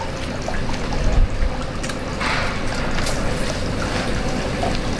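Water pours steadily over a young, wilted plant in a pot set inside another pot, a close, continuous splashing trickle that swells briefly near the start and keeps a rough, even wash throughout.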